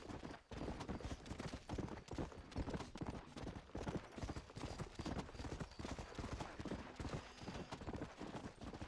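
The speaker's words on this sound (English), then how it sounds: "I keep getting kicked off or bucked off my horse because I'm riding it too hard" Horse hooves clip-clopping fast and steady while riding in the video game Red Dead Redemption, a dense galloping patter that runs through the whole stretch with only a brief gap near the start.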